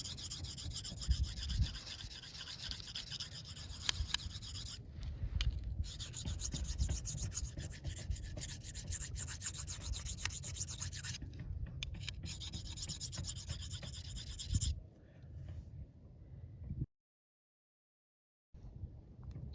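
Knife blade stroked steadily across the fine side of a whetstone, a continuous close rhythmic rasping scrape that pauses briefly twice before stopping.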